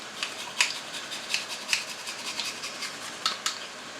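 Garlic cloves rubbed against a grater, a series of short, light rasping strokes at close range with no talking.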